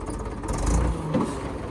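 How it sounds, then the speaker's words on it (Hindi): A farm tractor engine running nearby in a village garden, a low steady rumble and drone that keeps up throughout the short stretch, with no talk over it. "और ये ट्रैक्टर तो अपना ही है, इस पर चल रहा है काम"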